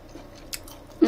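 A woman bites and chews fried chicken with seasoned sauce, a soft close chew followed by a louder crunchy bite at the end.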